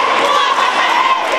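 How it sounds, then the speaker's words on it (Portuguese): Loud, dense crowd cheering and shouting at a school volleyball game in a sports hall, steady and sustained throughout with many voices overlapping. "No jogo de vôlei, os alunos estavam ansiosos, a torcida animada."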